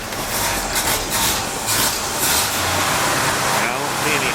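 Engine of a 1968 Chevy C10 pickup running steadily after carburetor work, a continuous loud rumbling drone throughout with slight surges, close by and with no talking over it.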